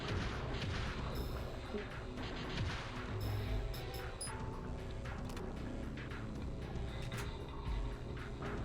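Dense, continuous barrage of gunfire and booming impacts from the survival horror game Parasite Eve II on PS1, sustained at steady loudness throughout with occasional sharper crashes.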